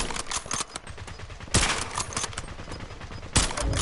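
Rapid automatic gunfire in the video game Warzone, with close bursts of shots rattling throughout and two louder blasts standing out, no talk over it.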